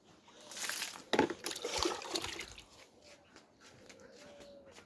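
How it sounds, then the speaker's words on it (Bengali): Water is poured onto a young litchi plant: a close splash and pour that soon thins into soft trickling and dripping, alone without speech. "আমার লিচুটা সারাতে আমি এখন পানি দিচ্ছি"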